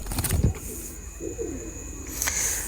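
Pakistani Teddy pigeons cooing close by in a loft, with a couple of soft low coos over a faint steady background hum and a few sharp rustles at the start.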